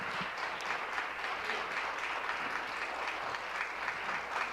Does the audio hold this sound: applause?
yes